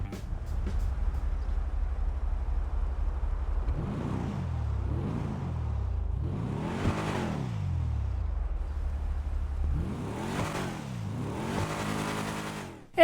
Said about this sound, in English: hear how the car sounds